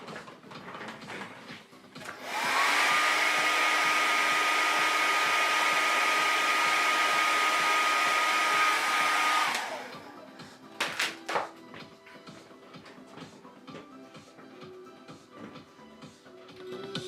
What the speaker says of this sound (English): So let me blow dry this up.